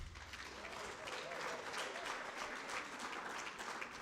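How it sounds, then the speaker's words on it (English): Sustained applause from a conference audience, dense steady clapping filling the room for about four seconds, with some voices mixed in underneath. "clap hands for that"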